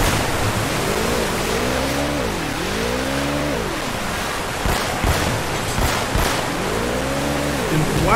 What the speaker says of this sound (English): this water is loud.